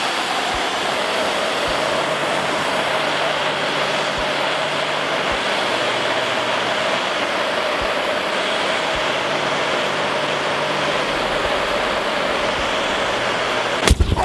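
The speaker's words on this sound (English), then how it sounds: "I'm gonna hold the gas torch on the stick so I would be on the safe distance" Gas torch flame roaring steadily while heating a lighter held on a stick, a constant loud hiss with faint ticks, ending in a sudden sharp burst as the lighter explodes.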